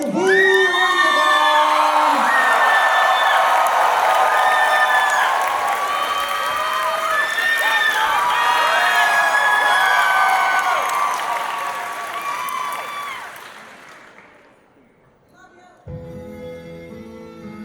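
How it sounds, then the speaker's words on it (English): A crowd at a convention dance competition cheers, whoops and applauds loudly over music, then fades out toward the end before a brief quieter musical passage. "crowd, make some noise for Norway the Anthrocon"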